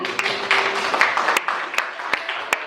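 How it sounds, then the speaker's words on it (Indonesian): A classroom group gets applause: scattered, uneven claps with a few sharp, close hits, and a brief voice at the start. "tepuk tangan buat kelompok 4"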